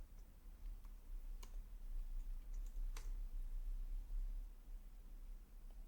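A computer keyboard is tapped to enter a username and password, with a few faint, sparse keystrokes over a steady low hum and no talk.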